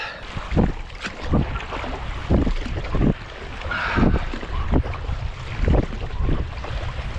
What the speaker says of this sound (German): absoluter Gegenwind. Kann man ja schon fast gegen die Strömung fahren hier.